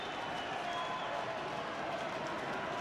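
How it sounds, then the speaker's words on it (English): A big rugby crowd at a 2011 Rugby World Cup match between South Africa and Fiji roars a steady, far-off chant as the substitute Tendai Mtuera comes on, a continuous wash of voices with no break. "the cries of the beast come from the crowd"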